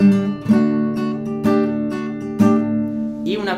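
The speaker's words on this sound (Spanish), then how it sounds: "el sonido, si no lo habéis escuchado, una española" A Spanish classical nylon-string guitar plucked close up, with four ringing strummed chords at roughly one-second intervals, warm and sustained, ending in a brief softer flourish.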